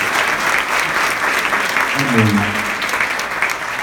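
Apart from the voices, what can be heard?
applause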